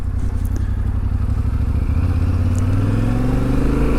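Motorcycle ride along a backcountry trail in New Mexico: a steady, loud engine drone close by, with pitch rising as it accelerates toward the end and faint clatter from the rough ground.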